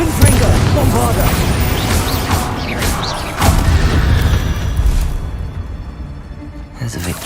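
Explosive spell blasts and booms from the Hogwarts Legacy video game, dense and loud with crashing bursts and whooshes, a heavy impact near the middle, fading toward the end.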